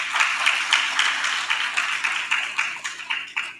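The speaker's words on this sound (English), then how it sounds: "You can give him a round of applause." Applause from the congregation at a Sunday morning satsang in an Arya spiritual center: a steady patter of many hands clapping in a roughly even rhythm, sustained for several seconds with no talking over it.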